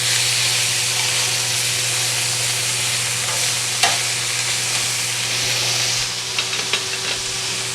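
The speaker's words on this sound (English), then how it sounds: "Now I'm going to turn on my vent hood to get any extra smoke out of here." Kitchen vent hood fan running above food frying in a pan, giving a continuous loud hum and rushing air over steady sizzling, with a few small clinks near the end and no talking.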